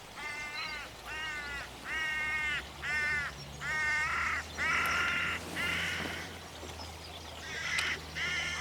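Hooded crows caw repeatedly in a field, a series of harsh, loud calls in rough rhythm, some overlapping as a second bird joins, with no talk.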